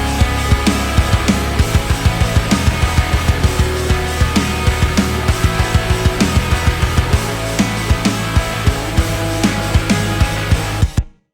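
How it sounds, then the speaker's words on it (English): A loud, dense pop punk instrumental mix made with stock plugins drives along with punchy regularly spaced kick and snare hits, distorted guitars and bass, ending abruptly. "let's have a little listen to the instrumental mix with the stock plugins"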